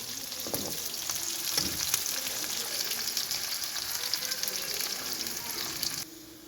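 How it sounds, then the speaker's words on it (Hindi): Onions brown in a hot pan for a potato and capsicum dish, giving a loud, dense sizzle with a few stirring scrapes. The sizzle drops off abruptly near the end. "हमारे जो प्याज हैं वो ब्राउन हो चुके हैं"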